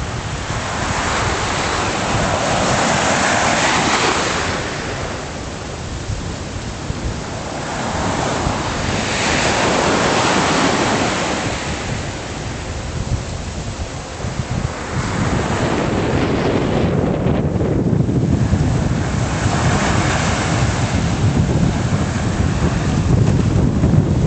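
Ocean surf at Playa Cozon beach near Las Terrenas, Dominican Republic, in the evening: loud, steady roar of breaking waves rising and falling in long swells, with heavy wind buffeting the microphone throughout.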